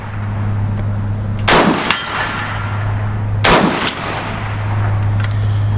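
VZ. 52/57 rifle fired at an outdoor range: two loud, sharp shots about two seconds apart over a steady low background hum.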